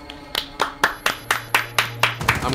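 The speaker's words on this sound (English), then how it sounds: "I'm clapping." Hands clap about nine times in a steady rhythm, sharp and close, with a faint hum in the background.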